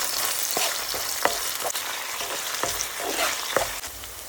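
Onions sizzling in a pan while being stirred with salt for a green tomato thoran, a constant bright frying hiss broken by repeated scraping stir strokes, close and alone.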